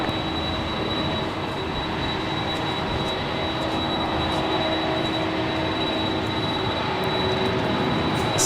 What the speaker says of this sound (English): This is Delta Airlines Flight 553 heading to JFK in the 767-300ER, 23 years of age